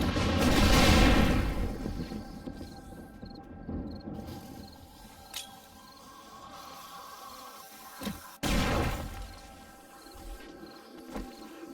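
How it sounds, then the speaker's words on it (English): Grenade explosions in a video game: a heavy rumbling blast at the start, a quieter stretch with scattered pops, then a sharp crack and another rolling boom, fairly loud with no talk. "That is a lot of grenades down there."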